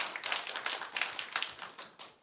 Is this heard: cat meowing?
no